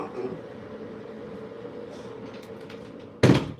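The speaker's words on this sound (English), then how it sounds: "I had to close that door" A door shuts with a single sharp thud near the end, following a stretch of quiet room hum.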